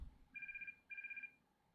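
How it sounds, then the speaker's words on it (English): A phone muffled inside a jeans pocket gives two short bursts of ringing with a steady electronic tone, each lasting about half a second. The rings are quiet against a low background rumble. "You feel a violent vibration from your jean pocket as a muffled ringing fills the air for a couple seconds"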